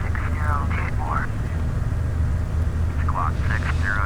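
A steady airplane engine drone from Microsoft Flight Simulator X hums throughout in cruise, while someone talks over it in short bursts.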